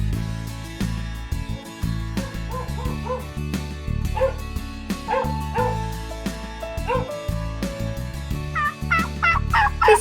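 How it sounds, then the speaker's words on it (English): A turkey gobbling, rapid rattling calls repeated loudly and close over a busy background with musical tones. "The sound they make is a gobble."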